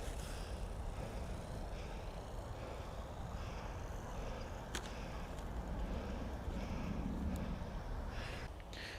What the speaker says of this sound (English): The wind's really starting to pick up again now.